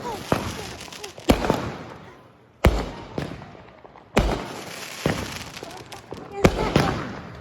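Fourth of July fireworks bursting outdoors: several loud, sharp booms at irregular intervals, each with a short crackling tail, while excited voices talk between the blasts.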